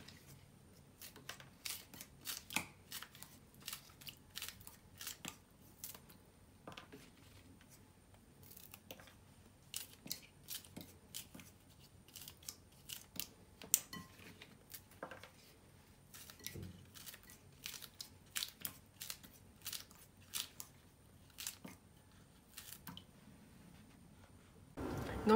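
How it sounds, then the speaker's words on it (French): Repeated crisp snips of scissors cutting green beans for a meat tajine, many short clicks in irregular bursts close by, quiet between cuts, with a louder clatter at the very end. "Et maintenant je coupe l'haricot. Moi je la coupe avec le ciseau."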